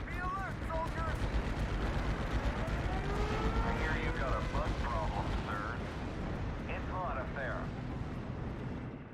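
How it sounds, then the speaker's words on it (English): Bombs bursting in Steel Division: Normandy 44 during a 4v4 battle on Odon: a steady, heavy rumble of explosions and battlefield din runs throughout, with voices and radio-like chatter layered over it. "time to hit these locations with bombs"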